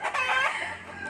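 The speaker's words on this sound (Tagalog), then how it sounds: "Putak-putak lang ang mga manok." Chickens cluck close by in a quick burst of squawky calls that fade toward the end, heard alone without voices.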